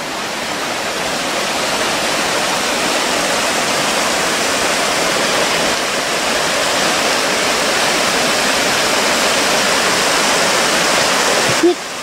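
Stream water rushes steadily at Cregagh Glen in Belfast in winter, a loud, unbroken broadband roar heard close from a viewpoint over the water, ending with a brief knock.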